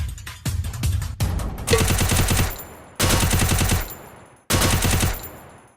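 Bursts of automatic gunfire from the Free Fire video game: rapid volleys of shots, then two more sustained loud bursts separated by brief pauses.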